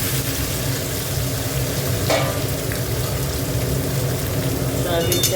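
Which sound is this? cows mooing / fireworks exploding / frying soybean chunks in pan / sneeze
frying soybean chunks in pan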